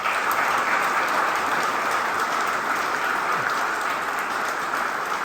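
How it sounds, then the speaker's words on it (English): Crowd at a school groundbreaking ceremony gives graduating students a round of applause, a steady, even hiss of many hands clapping that continues without break. "let's give them a round of applause"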